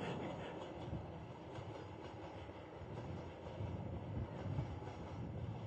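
A train rolls past with a soft, continuous rumble and faint clickety-clack, fairly distant and quiet, with no voices.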